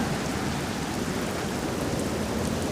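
Steady, dense rainfall pattering continuously, even and unbroken throughout, with no voices.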